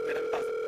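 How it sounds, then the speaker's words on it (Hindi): A phone gives a short, steady electronic tone, loud and close, held without a break for under a second. No voices are heard. "आपका फोन आ रहा है।"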